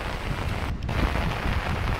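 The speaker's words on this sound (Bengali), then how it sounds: "পুকুরটার ওপরে বৃষ্টির যে ফোটার দৃশ্যগুলো দেখতে খুবই সুন্দর লাগছে" Monsoon rain falls on a village pond and road, giving a steady, dense patter with a low rumbling wash underneath. No voices.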